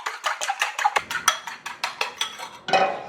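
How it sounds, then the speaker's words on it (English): Eggs whisked briskly in a bowl with a utensil, a steady run of quick rhythmic clinks and taps, close and clear, with no voices. "Just going to continue whisking that."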